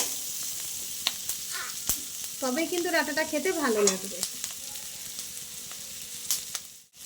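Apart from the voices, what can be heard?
frying cauliflower stalks on low flame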